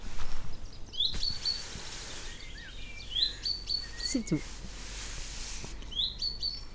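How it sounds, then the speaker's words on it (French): Small birds chirp in quick, high bursts at intervals, with a few lower calls between them and a brief spoken phrase near the start. "j'espère que vous allez profiter des petits oiseaux"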